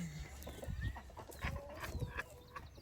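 Backyard chickens, including a black hen, clucking and murmuring close by while being fed, with short overlapping calls and soft scratching rustles in a busy flock.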